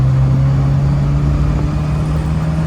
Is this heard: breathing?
no